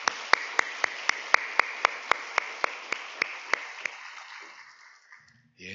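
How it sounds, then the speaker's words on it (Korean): A church congregation applauds the choir during a Sunday morning worship service. Steady, evenly spaced claps sound in unison over a soft wash of scattered clapping, then fade to quiet near the end. "힘찬 박수로 한번 격려하겠습니다"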